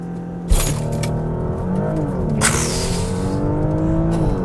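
A 2022 Porsche Panamera launching from a standstill in sport mode, engine snarling up through rising revs with a sharp shift and continued hard acceleration, loud and close.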